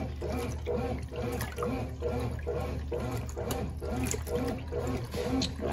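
A small 4 kg Brastemp Baby washing machine from 1992, fully loaded, churns its clothes in water with a regular sloshing rhythm of repeated surges, steady and moderately loud throughout.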